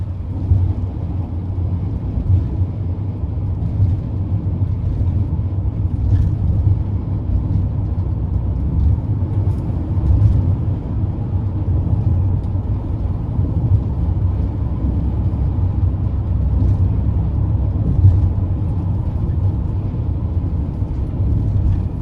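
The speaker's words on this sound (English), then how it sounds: "So cruising at 60, not bad in terms of wind noise" Inside a 2021 Ram Promaster 2500 conversion van cruising at 60 mph, a steady low rumble of road and wind noise fills the cabin, continuous and even, with no talking.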